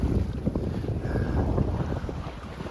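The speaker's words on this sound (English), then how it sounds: "we had a little wind surge come through, and we're getting propelled pretty good right now" A 24-foot sailboat heels in a gusty winter wind off Blake Island, with heavy wind buffeting and rumbling across the microphone and water swishing beneath, loud and constant throughout.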